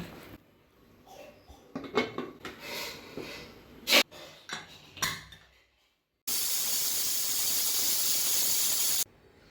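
A pressure cooker cooking mutton curry, first with scattered hisses and short squeals, then a loud, sustained hissing whistle of escaping steam lasting about three seconds, with no talking.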